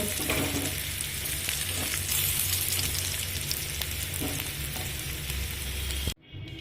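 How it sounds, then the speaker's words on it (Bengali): Steady, loud sizzling of potatoes frying in hot oil, a dense crackling hiss that runs continuously before cutting off abruptly near the end. "আর পরিমাণ মতো লবণ দিয়ে আলুটা ভেজে নেব"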